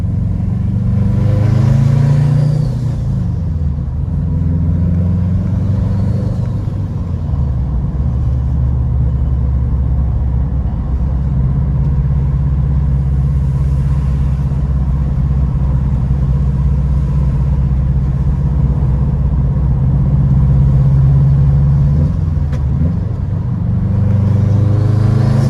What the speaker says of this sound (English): A little bit of fifth gear cruising, just the bare minimum stuff.